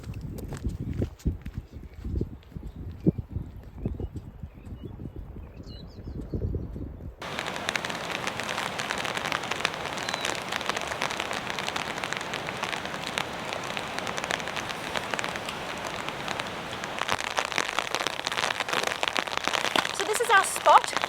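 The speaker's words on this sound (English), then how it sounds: "The rain is here." Rain pours at a campsite, starting as scattered drops with nearby footsteps before a sudden shift into dense, loud, steady downpour that builds slightly toward the end.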